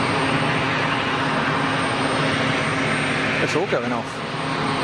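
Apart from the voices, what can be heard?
aircraft engines at Geneva Airport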